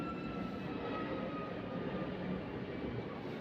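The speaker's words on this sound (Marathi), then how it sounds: "बघा विमानाचा आवाज येत असेल." Airplane passing overhead at around 5:30 in the early morning, a steady distant engine drone that holds evenly throughout, heard from indoors with no talking.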